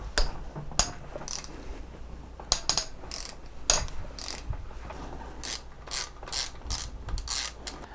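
A ratchet cracks loose the cylinder head cover bolts on a Honda CB350 motorcycle engine, a series of sharp clicking ratchet bursts, some rapid and some spaced, close up and with no talking.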